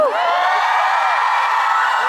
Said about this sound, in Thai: ส่งเสียงกรี๊ดให้อีกหนึ่งที